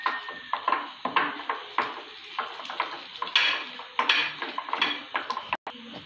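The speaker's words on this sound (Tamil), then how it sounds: "கொஞ்சம் மல்லிக்கீரை போட்டு நல்லா ஒரு கிண்டி கிண்டிட்டு" A spoon stirs carrot, beans and coriander in a pan for an evening snack, with repeated clinking scrapes against the metal in a steady, fairly close rhythm and no talk.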